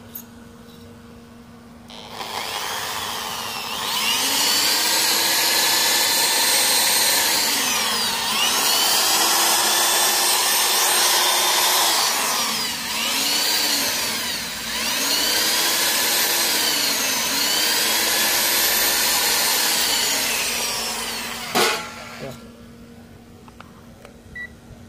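A power drill whirs loudly in several long bursts, its pitch dipping and recovering between runs, then stops with a sharp click.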